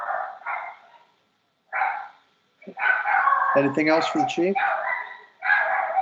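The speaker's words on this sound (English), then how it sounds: "Sounds like somebody's dog's got a question, but I can't understand what they're asking." A white miniature schnauzer barks in short, yappy bursts close to the microphone, several quick barks clustered mid-clip while people speak around and over them in a meeting setting.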